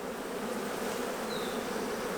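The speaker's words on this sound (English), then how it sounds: "A lot of bees in this hive." Dense, continuous buzzing of many honeybees swarming close around an open long hive, loud and unbroken throughout.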